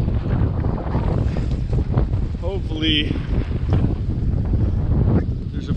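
Strong wind buffets an exposed rocky esker in Canada's northern wilderness, a steady roaring rush across the microphone throughout, with a person speaking briefly partway through.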